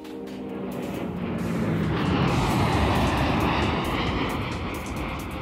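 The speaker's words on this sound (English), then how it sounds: "Army Fighter Jet." An army fighter jet roars past, a loud, broad, rushing engine noise that swells toward the middle and stays heavy throughout, with no voices.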